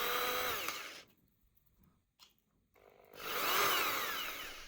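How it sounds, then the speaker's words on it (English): A power tool chamfers the outer edges of an off-the-shelf rod, giving a loud, whining grind in two bursts separated by about two seconds of near silence with a brief blip. "After that, I'm chamfering the outer edges"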